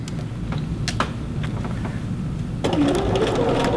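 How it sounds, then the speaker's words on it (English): A sewing machine stitches the curved shirttail hem of a men's shirt, with a steady mechanical whir and light clicks close by, growing a little louder toward the end. "as you sew in and out that curve"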